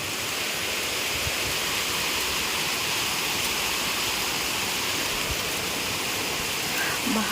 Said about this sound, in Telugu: ఎక్కువ అయిపోయింది వర్షం నీళ్ళు చూడండి అలా వస్తుంది